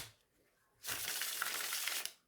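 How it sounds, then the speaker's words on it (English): A deck of Jean Dodal tarot cards is riffle shuffled, giving a dense, crisp burst of rapid card flutter that lasts a little over a second after a quiet pause. "Riffle shuffle."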